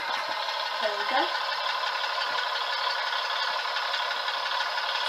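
A Bachmann Class 150 model train's DCC sound card plays a diesel engine idle, a steady small rattling hum running throughout with a brief faint voice near the start.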